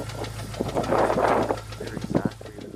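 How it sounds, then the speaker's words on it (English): Worn 2.5 car engine with piston slap at about 160,000 miles, a running engine with a low hum and rapid irregular knocking taps, close by, swelling briefly in the middle. "Sounds like piston slap to me"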